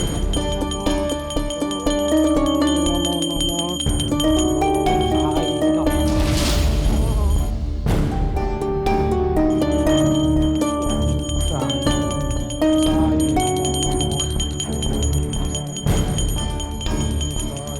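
A bell rings repeatedly in the morning with bright metallic clangs layered over continuous devotional chanting or music, dense and busy throughout.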